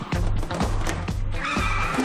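A car spins its tires and pulls in snow during a traction test: a loud, close engine drone with repeated squealing, whining tire bursts and no talking.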